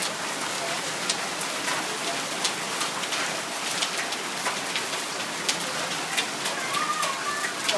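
Heavy stormy rain pours steadily in Lahore, a dense hiss with frequent sharp drips and splashes close by, while birds coo faintly in the background.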